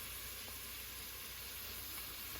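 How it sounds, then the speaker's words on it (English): A faint, steady sizzle hisses continuously, like broken-up food frying quietly in a pot before sauce is added, with no voices. "let it start sizzling"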